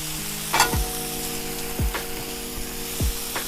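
Smash burger patties pressed onto a hot Blackstone griddle hiss and sizzle, with three sharp scraping presses of a spatula spaced about a second apart over a steady frying crackle.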